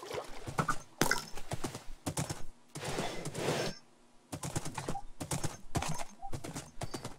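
Rhythmic horse hoofbeats clip-clop in quick bursts in a Minecraft-style modded game, separated by brief pauses, with the crisp, close quality of game sound effects.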